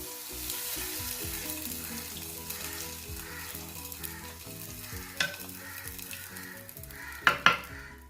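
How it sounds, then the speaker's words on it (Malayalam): Moru curry is stirred in a pan after hot tempering has been poured in, giving a steady sizzle with soft scraping strokes and a couple of sharper clinks of the spoon against the pot near the end. "എന്നിട്ട് ഇതെല്ലാം കൂട്ടിയിട്ടൊന്ന് ഇളക്കി കൊടുക്കും."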